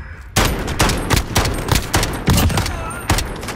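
Rapid FAL rifle fire in Call of Duty Modern Warfare: a loud sequence of sharp, evenly spaced shots in quick bursts, each crack trailing into echo, close and dominant.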